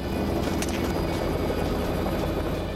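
A helicopter flies over a hog hunt, its rotor and engine making a loud, steady, close drone with a rapid chopping pulse that holds constant throughout.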